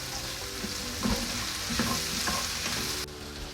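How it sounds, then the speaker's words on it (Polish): Sausage, onion, zucchini and peppers fry in a pan with a steady, close sizzle, broken by a few soft scraping stirs; the hiss drops slightly near the end. "Następnie do podsmażonej kiełbaski z cebulką dodaję cukinię i paprykę. To razem podsmażamy około 2 minut."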